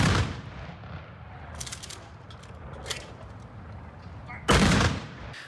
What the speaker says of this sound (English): the thunder of a gunshot salute